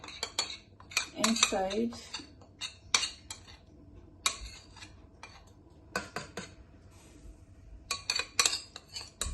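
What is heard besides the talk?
spoon in pot adding palm oil mixture with ogbono to okra soup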